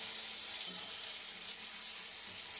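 Chicken, about half a kilo, frying in oil in a pan with a steady, close hiss and crackle that runs unbroken with no one talking.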